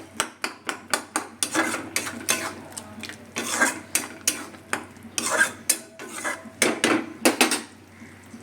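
Spoon or ladle scraping and clanking around a metal cooking pot in quick, irregular strokes, close and fairly loud, with short pauses between bursts and no talking.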